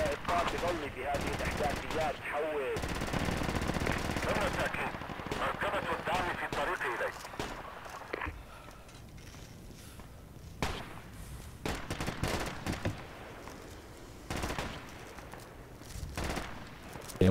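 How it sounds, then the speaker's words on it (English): Gunfire from an APC in a multiplayer war game, bursts of shots and heavy firing packed into the first half, then scattered distant reports under team voice chat. "An APC is shooting at us from the south."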